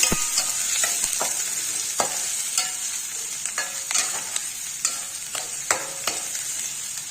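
Cabbage sautéing with onion and tomato in a pan makes a constant bright sizzle, with regular knocks and scrapes from a spatula stirring it close by.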